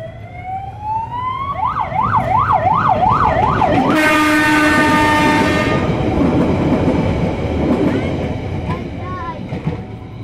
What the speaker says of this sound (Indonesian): Namanya kereta inspeksi itu teh.